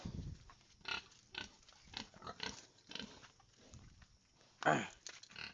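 Pigs in a farm pen give short grunting calls in irregular bursts, fairly close, with scuffling movement and a louder squeal-like burst near the end.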